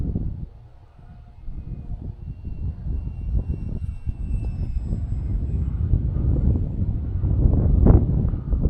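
Strong wind gusts roar and buffet the microphone outdoors, a low rumbling rush that dips briefly early on and then builds steadily louder, with a faint high hum from a small model plane overhead.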